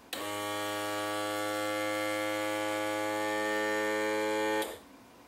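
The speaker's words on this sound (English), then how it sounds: "this switch turns on the pressure pump" Electric pressure pump inside a PS-525 pitot static tester switches on with an abrupt start, runs as a steady, close buzzing hum for about four and a half seconds, then stops sharply, alone without talk.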